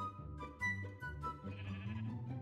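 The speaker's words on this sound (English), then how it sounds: "Hello, sheep." Sheep in the Minecraft video game bleat several times in quick succession, close and fairly loud, with soft game ambience behind the calls.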